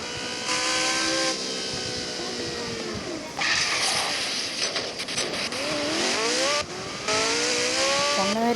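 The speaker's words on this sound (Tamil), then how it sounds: "இது என் வண்டி வந்துடு. செம்ம ஸ்பீடு வண்டி." A fast car in a racing video game, engine whining and rising in pitch through repeated gear shifts, loud and close throughout with brief dips between bursts of acceleration.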